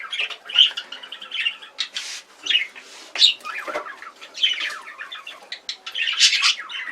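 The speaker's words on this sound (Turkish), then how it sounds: "elimde besleyip büyüttüğüm e, evcil, e, ele alışkın bir Hint bülbülümüz" Pet Indian bulbul in a roomy cage, calling with a rapid series of sharp squawks, chirps and whistled notes in irregular bursts, close and clear against a quiet background.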